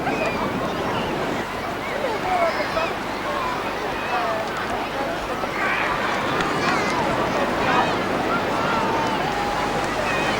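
Ocean surf rolling in at Watergate Bay beach in Cornwall, a continuous broadband wash of breaking waves with steady wind noise buffeting the microphone, loud and unbroken throughout.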